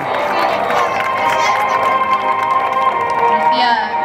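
Spectators at a horse show at a horse pilgrimage fair in Pontellas clap and cheer in a steady crowd roar, with an announcer's voice over the applause.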